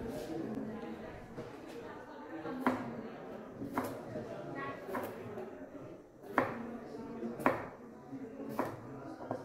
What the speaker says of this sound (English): I am going to show my cutting skill.